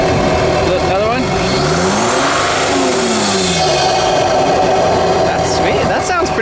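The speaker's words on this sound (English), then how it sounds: "Can you go give it a little rev?" A Ford F-150 with a 3.0 V6 Powerstroke diesel engine revs up and settles back in a steady, loud rise and fall, with a faint turbo whistle and voices talking nearby.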